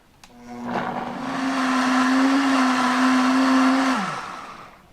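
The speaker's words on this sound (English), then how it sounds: "All right, let's blend this up. Blender on low." A countertop blender running on low while blending a dairy-free, calcium-rich smoothie: a steady motor whine rises in after a brief clatter, holds loud and even for about three seconds, then winds down as it is switched off.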